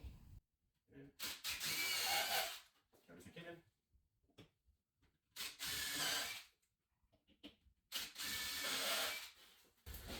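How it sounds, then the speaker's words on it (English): A power drill countersinks a screw into a wall cabinet during assembly, three loud grinding bursts of a few seconds each, separated by quiet gaps with brief clicks and handling noises. "then you just countersink that guy in"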